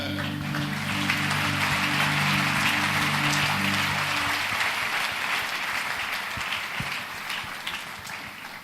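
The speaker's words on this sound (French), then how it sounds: "Alors, les applaudissements, j'espère que vous allez faire..." An audience at a church television broadcast claps in steady, loud applause that gradually thins and tapers, with a sustained tone beneath it early on.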